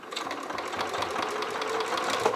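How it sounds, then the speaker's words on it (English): A sewing machine runs steadily, stitching through the seams of a half-square-triangle scrap quilt block, with a continuous rapid mechanical whir and fine needle rhythm, close and moderately loud with no talking. "So I'm going to start sewing."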